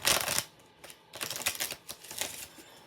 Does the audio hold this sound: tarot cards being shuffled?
yes